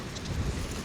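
Steady wind rushing and buffeting against the microphone on a roof during shingle repair, a low rumbling roar with no voices.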